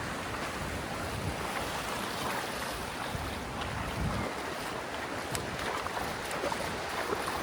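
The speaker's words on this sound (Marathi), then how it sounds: "फायनली होडी आली किनाऱ्याला" At a fishing shore, a boat comes in over the waves amid a steady wash of surf and gusting wind noise, loud and continuous throughout, with no talk.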